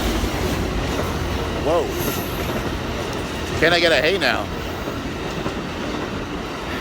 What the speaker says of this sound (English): we got a choo-choo train coming in